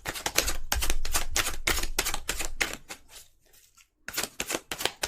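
Tarot cards are shuffled in quick bursts, giving rapid, crisp riffling clicks close up, then a short pause before the shuffling starts again, with no voice.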